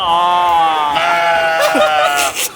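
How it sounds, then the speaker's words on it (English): Sheep or goats bleat loudly and up close at a fair, one long wavering cry followed by a shorter rising call, with faint crowd noise behind. "I hope you guys are happy sheep or goats."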